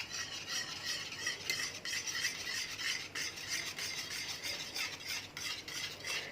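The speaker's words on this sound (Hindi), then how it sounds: "तो अच्छी तरह मिल्क पाउडर को हमने दूध में मिक्स कर लेना है ताकि इसमें गुठलियाँ ना बने" Milk powder being stirred into cold milk, a steady, continuous scraping swirl of a spoon against the pot, close and even throughout with no talking.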